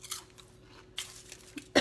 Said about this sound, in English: Let me know if you guys can hear me crunching.